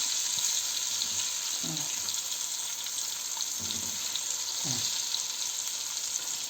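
Pieces of liver fry in a hot pan with a dense, steady sizzle that fills the whole stretch. A few soft low knocks come through as pieces are turned, and no one speaks.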